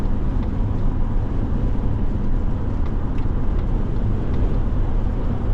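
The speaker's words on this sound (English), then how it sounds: "wind noise, and that is because we got those crossbars up on the roof and the wind just whistles through those things" Wind noise on a 2025 Mazda CX-70 Turbo S Premium with a twin-turbo inline six, whistling through the roof crossbars at speed, heard from inside as a steady, loud broadband rush with road roar and no talk.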